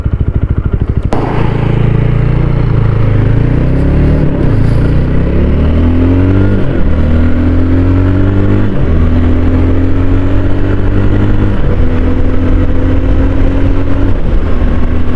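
BSA Bantam 350 motorcycle engine on the move, loud and close, revving up through several gear changes with pitch rising, dropping, then settling into a steady drone, wind noise throughout.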